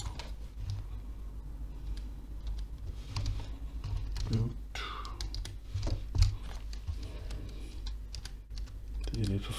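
Computer keyboard keys clicking in scattered short bursts while a profile is set up, quiet and close, with a person talking in Danish over much of it.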